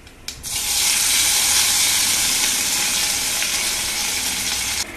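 Curry leaves dropped into hot coconut oil burst into a loud, close, steady hiss after a brief sharp onset, a continuous sizzle that holds evenly and stops abruptly at the end.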